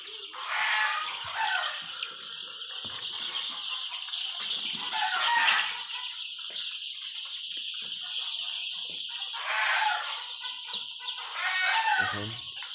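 Eight-day-old Sonali chickens in a poultry shed cluck and chirp in a busy, overlapping chorus, with occasional wing flaps and louder peaks, close and continuous without talking.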